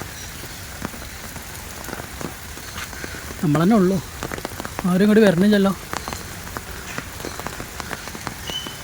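Steady rain pours down outdoors in Thiruvananthapuram, a dense, even patter filling the whole stretch while voices speak briefly over it in the middle.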